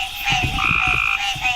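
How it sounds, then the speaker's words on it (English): Green tree frogs calling outdoors after rain, a loud chorus of rapid, pulsing croaks with a sustained ringing tone running through it, close and continuous without any talk. "This is a green tree frog."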